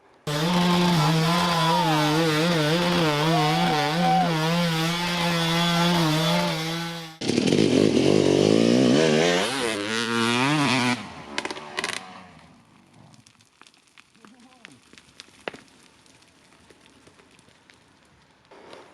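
A YZ 250 two-stroke dirt bike engine screams loud and close up a steep, loose hill climb, its pitch wavering under throttle, then suddenly shifting and easing off before fading to quiet with faint clicks.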